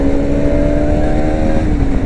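A motorcycle exhaust revs loud and close on a Sunday ride near Indore, a sustained throaty engine drone holding steady with no talking.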